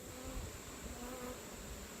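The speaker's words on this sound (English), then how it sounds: "Got a drone bee right there." Honeybee drones buzzing softly during an inspection of a brown hive on a hillside, a steady faint insect drone with no talking.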